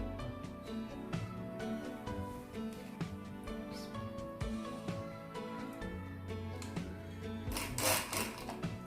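Sewing machine stitching a gamis dress, a faint rapid mechanical patter in short runs with small clicks and pauses, fairly quiet and close, with no talking.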